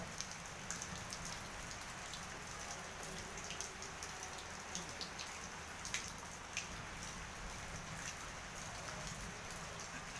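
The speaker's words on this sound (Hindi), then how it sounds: "आज बारिश हो रही है।" Gentle, steady rain falls continuously, a soft even hiss of drops on surfaces with occasional louder drips, no one speaking.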